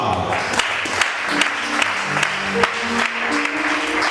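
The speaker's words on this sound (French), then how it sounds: "Acclame ça." A church congregation claps in a steady, loud patter filling the room, with voices calling out over the applause and a faint musical tone underneath.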